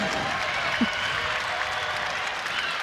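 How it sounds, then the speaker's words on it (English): Steady applause and cheering from the crowd and bench in a women's college basketball arena at a Grambling vs. Louisville game form a continuous, moderately loud wash of noise with no talk on top. "And the crowd and bench goes wild."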